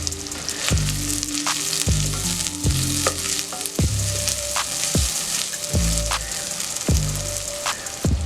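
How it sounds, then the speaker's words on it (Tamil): Two large chopped onions sizzle and crackle steadily in hot oil for mutton biryani, with a spoon scraping the pan in a regular stirring rhythm, up close. "பொடியா நறுக்குன 2 பெரிய வெங்காயம் சேர்த்து வதக்கிக்கிறேன்."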